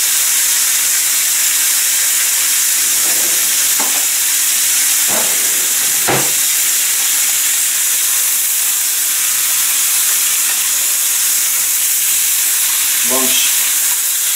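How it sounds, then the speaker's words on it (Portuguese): Julienned onions brown in a pan with a loud, steady hissing sizzle throughout, punctuated by a few utensil taps and a short rattling scrape near the end. "vamos alourar um pouco as nossas cebolas"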